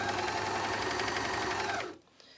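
A JUKI MCS-1500N coverstitch machine runs steadily while sewing a hem with a hemming attachment, giving a loud, continuous mechanical whir that cuts off abruptly near the end, leaving quiet.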